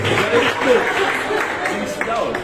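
Applause from a concert audience in Kemer, Antalya, a steady wash of hand claps held under an amplified voice talking over the crowd.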